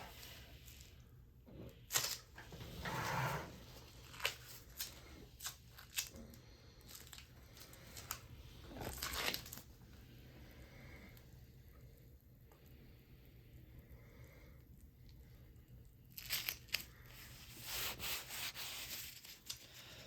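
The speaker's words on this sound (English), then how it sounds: "When I'm rubbing the leg, I'm just rubbing all those layers of the resin together so everything sticks together." Hands rubbing layers of resin casting material on a leg cast for a custom AFO, a close, soft scraping and rubbing in uneven strokes, with brief louder bursts and quieter stretches.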